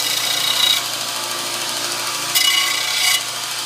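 Belt sander lightly cleaning up burrs, a loud, close continuous whir with two brief harsher grinding surges as the piece touches the belt, no talking.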